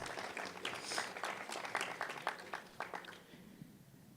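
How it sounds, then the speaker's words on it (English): An audience applauds after a startup pitch at an Enactus event, a burst of crowd clapping that peaks early and then gradually thins and fades. "Let's give Clorganic a round of applause."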